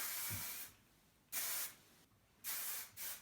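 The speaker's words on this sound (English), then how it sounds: "And give it a spray." Two sharp bursts of aerosol hairspray, each a steady hiss lasting about a second, with a short quiet gap between them, close and loud.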